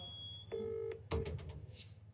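A telephone call is dialed: a few short keypad tones and a steady tone follow one another, fairly quiet, with no talking.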